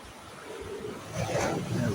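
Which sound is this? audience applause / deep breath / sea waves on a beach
sea waves on a beach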